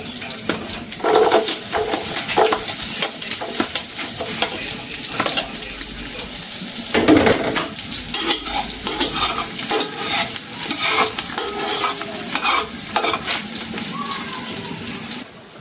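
Garlic fries in a pan with steady sizzling, stirred with frequent scraping and clattering, plus a running-water, sink-like wash and faint voices nearby.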